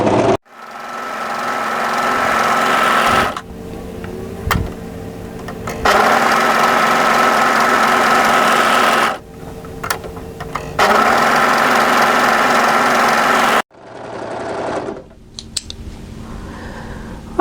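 Overlocker serging the edges of fabric for a tee shirt or dress, loud, fast mechanical whirring in three long runs separated by short pauses with faint clicks and handling, no voices.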